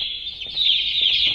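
A bird in the Garten of BanBan 2 mobile game clucks in a sustained, bright chirpy call that grows louder midway and continues to the end, heard alone without speech.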